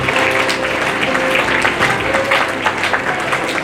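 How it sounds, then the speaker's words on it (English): Audience applause at a Bengaluru chess and arts event honouring world champions, steady dense clapping from a crowd throughout, fairly loud and close with no pause. "Give them a big round of applause once again"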